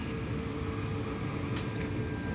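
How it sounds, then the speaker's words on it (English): A train stands at the last stop of a suburban Stockholm railway station, giving a steady, moderately loud rumble and hum with a brief hiss partway through. "And this is last stop of this train."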